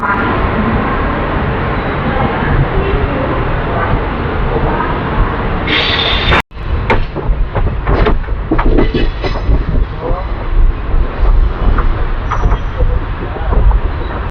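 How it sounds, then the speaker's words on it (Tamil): The Hemsagar Express pulls into Erode on a curve, a loud continuous rumble with wheel clatter and squeal, cut briefly by an abrupt break midway before the rolling noise resumes. "நம்ம ஹெம்சாகர் எக்ஸ்பிரஸ் வந்து பார்த்தீங்கன்னா ஈரோடுக்குள்ளே அரைவாயிட்டு இருக்கு. அந்த கர்வ் எடுத்து அரைவாயிட்டு இருக்கு."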